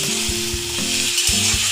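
Potato and ridge gourd hitting lightly browned onion in a hot pan give a loud, close sizzle, broken by a few dull knocks of stirring.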